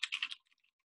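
Brief quick run of keystrokes on a computer keyboard, about four close taps followed by a few faint lighter clicks, quiet and alone.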